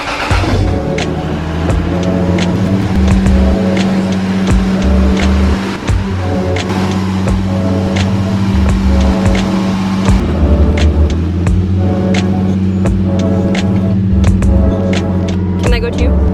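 A car just fitted with an ABS box is taken for a test drive, its engine a loud, close, steady drone with shifting revs that runs without a break.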